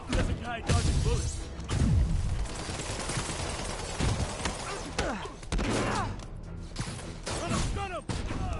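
Rapid gunfire bursts and thuds from a shooter video game battle, sounding busy and continuous at close range while voices shout over the shooting.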